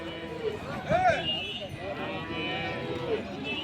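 Bullocks at the Ranebennur cattle market give a loud moo near the one-second mark and fainter lowing later, over a busy market hubbub with people talking in the background.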